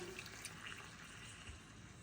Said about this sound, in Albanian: Do t'i shtoj ujin e milljeve